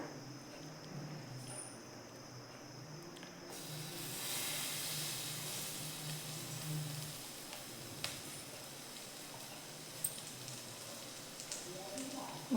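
Soaked bread laid into a pan of hot oil gives a sudden broad hiss that starts partway in and settles into a steady sizzle, with a few small pops and someone speaking over it.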